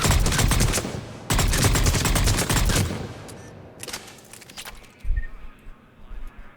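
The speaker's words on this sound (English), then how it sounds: "We'll start out just firing from the hip, and then we'll use the sights, and then ultimately we will use a scope." Valkyrie rifle in Mass Effect 3 fired from the hip: loud rapid bursts of gunfire in two long strings, then a few scattered single shots and a mechanical clunk as it tails off.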